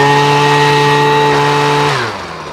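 Husqvarna 125BV leaf blower engine runs at a steady, loud buzzing idle after a carburetor rebuild, then drops in pitch and winds down near the end.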